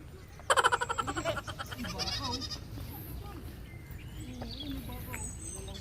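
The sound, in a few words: goat bleating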